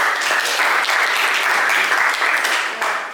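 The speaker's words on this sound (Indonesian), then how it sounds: "Oke, tepuk tangan untuk kelompok 4." Dense classroom applause for a student group, many hands clapping loudly and steadily for about three seconds before tapering off slightly, no voices over it.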